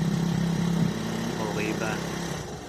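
A Honda Click scooter engine, fitted with new mags, starts and settles into a steady mid-pitched idle, close and fairly loud, with some talk over the start.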